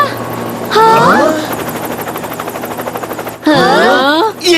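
Helicopter in a Hindi-dubbed Beyblade Metal Fusion cartoon episode, a loud rhythmic rotor chop pulsing through the middle, with excited Hindi voices speaking over it at the start and end.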